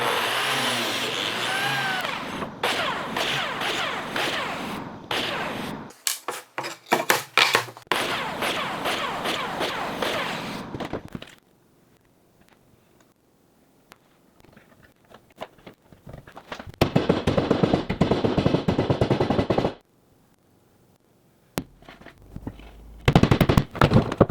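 A biscuit jointer cuts slots in boards in a wood shop: repeated loud, short whining bursts come between stretches of near silence, each burst rising and stopping abruptly.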